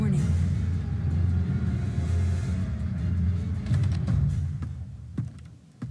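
A thunderstorm rumbles at night in the Nancy Drew game Trail of the Twister, a steady, loud low roar that runs the whole time, with a few sharp crackling bursts near the end.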